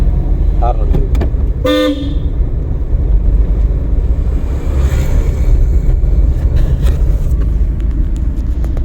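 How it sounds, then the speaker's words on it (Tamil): A car horn gives a short honk on a road during a driving lesson, heard over the heavy rumble of the vehicle's engine and traffic, with people talking nearby. "ஹார்ன் அடிச்சிருக்கு."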